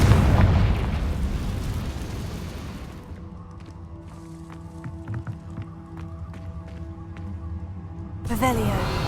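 A Confringo fire spell bursts in the Hogwarts Legacy video game, a loud rumbling blast that decays into scattered crackles and faint debris, followed by another sharp burst near the end.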